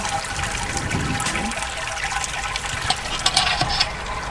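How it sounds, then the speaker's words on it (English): Liquid drains steadily during home beer brewing with a brewing rig, a continuous close trickle and splash of running liquid with a few louder gurgles near the end. "And we'll let that drain."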